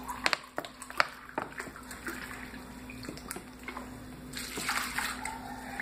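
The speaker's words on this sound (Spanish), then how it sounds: "voy a tener aquí en mi tazón, voy a poner de vinagre blanco más o menos" White vinegar pours into a bowl as a soft trickling flow beneath light handling clicks and clinks, growing slightly fuller toward the end.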